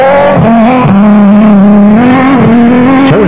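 A Nissan Hardbody off-road race truck at the Caledon off-road race in South Africa, its engine loud and close, revving steadily with a few sharp dips and surges as it works through gears.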